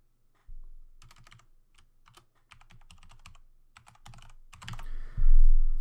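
Computer keyboard being typed on to enter a username or email at a sign-in prompt, a quick irregular run of close key clicks ending in a louder thump.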